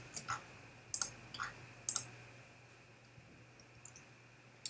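Mouse clicks at a computer during photo editing, several small sharp taps scattered irregularly, some in quick pairs, faint and close over a low steady hum.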